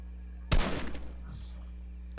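A single burst of gunfire in the video game Fortnite, one sharp shot with a short decaying tail and a fainter follow-up, heard over quiet game ambience.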